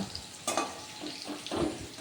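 Potatoes frying in a pan, a soft sizzle with brief stirring scrapes, close and fairly quiet, with two louder bursts of movement partway through.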